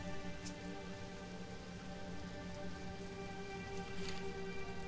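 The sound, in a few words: rain falling in the video game Sheltered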